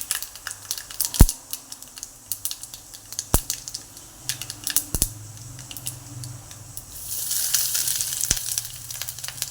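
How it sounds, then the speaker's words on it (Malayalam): Steady sizzling of grated coconut frying in a pan after mustard seeds, with scattered sharp clicks and crackles, growing louder and hissier toward the end. "തേങ്ങ ഇട്ട് കഴിഞ്ഞാൽ നമുക്ക് സിമ്മിൽ വെച്ചിട്ട് വേണം വറുക്കാൻ"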